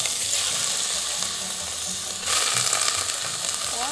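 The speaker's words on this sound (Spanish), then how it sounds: "Estamos sellando la carne." Beef sears in a small pot for a Bolivian pot roast, giving a continuous loud hiss of sizzling fat that swells a little partway through, with no voices.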